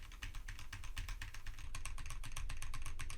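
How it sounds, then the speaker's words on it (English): Fast, steady typing on a computer keyboard captured by a budget VM30 or VM50 YouTuber microphone, a dense run of sharp key clicks over a low background hum, growing slightly louder and crisper in the second half. "Let's go for a quick typing test."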